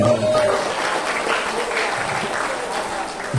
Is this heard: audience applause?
yes